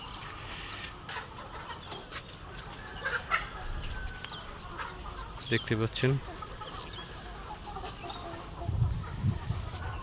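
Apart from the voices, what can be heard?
chickens clucking on a poultry farm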